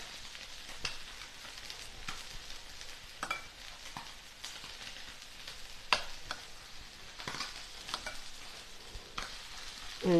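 A spoon works through cooked couscous in a pot alongside spinach and onion, a steady soft scraping and stirring with faint sizzle underneath and a few light knocks against the pot.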